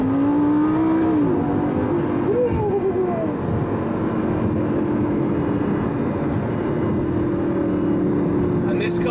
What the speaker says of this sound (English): this car shifts when it wants to shift, and it screams at you whilst doing so